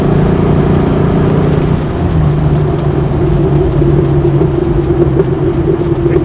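A Land Rover Defender 110 engine rumbles loudly and steadily through its exhaust, with a low droning tone and faint crackling after pops layered over the running engine.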